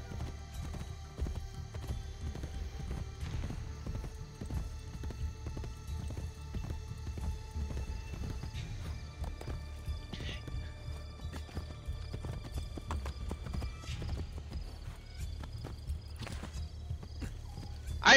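Horse hooves clip-clop steadily at a gallop in Assassin's Creed Brotherhood, with an occasional neigh, moderately loud and continuous with no talk over it.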